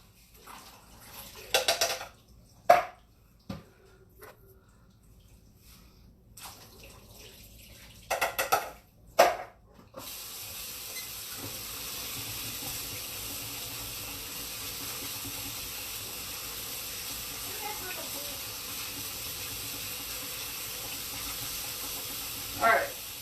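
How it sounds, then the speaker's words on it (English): A sink tap runs over two cans of beans being rinsed, first in short bursts of splashing with quiet gaps, then a steady, fairly soft stream of running water that continues to the end. "So I'm going to put this over my sink real quick and wash out"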